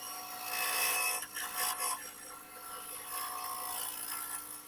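Sandpaper at 240 grit rubs against a spinning oak lidded box on a wood lathe, making a continuous bright rasping hiss that swells and dips slightly as pressure shifts, with no talking.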